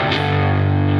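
Electric guitar through the MOSFET side of a distortion pedal alone, a single sustained, saturated chord ringing loudly for a brief moment.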